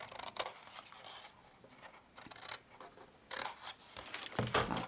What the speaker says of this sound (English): we cut up into the corners and just get a nice little wedge out so that our box will